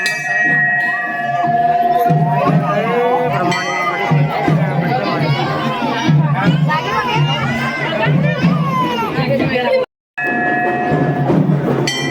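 Chatter and murmuring voices of a crowd gather at the Brahmani Mata temple during Dev Diwali, with tonal ringing like bells over the babble and a brief silent cut before the hum resumes.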